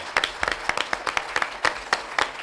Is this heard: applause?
yes